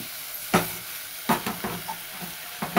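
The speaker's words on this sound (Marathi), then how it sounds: "असं हलवून घ्यायचं मस्त चांगलं." Masala frying in a pan for drumstick and dal curry, a low sizzle punctuated by a few distinct spatula scrapes and stirs at irregular intervals, close with no talking.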